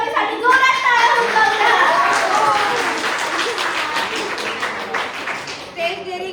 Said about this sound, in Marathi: आणि एकदा स्वाती बिरारी अकॅडमीसाठी जोरात टाळ्या होऊन